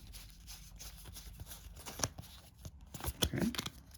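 Cards from the Starfinder: Pirates of Skydock board game handled and shuffled close by, a soft run of papery rustles and riffles that builds into a livelier shuffle with sharper snaps toward the end, with no talking.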